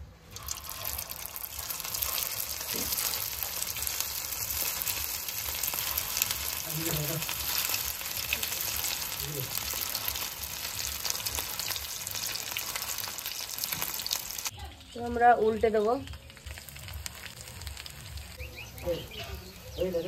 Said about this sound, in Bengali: আমরা চিতল মাছের মুইঠা ভেজে নেব, তার জন্য সর্ষের তেল দিয়ে দেবো